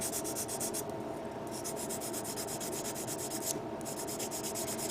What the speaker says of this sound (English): now I'm just going to remove the remaining with the 600 grit